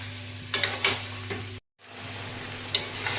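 Marinated chicken coated in yogurt, cumin and chicken masala sizzles in a pan while being slowly stirred, with a few sharp scraping strokes, a brief dropout midway, then more stirring.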